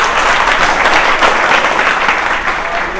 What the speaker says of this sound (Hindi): और ये देव सर के लिए तालियां।